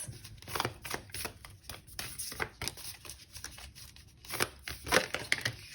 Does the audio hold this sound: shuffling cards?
yes